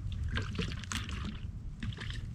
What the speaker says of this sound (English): just listen to the water running over those rocks